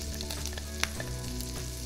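A piece of fish sizzles steadily in a hot Brabantia frying pan, a continuous crackling hiss with a soft clink or tap of a utensil partway through, close and even in level.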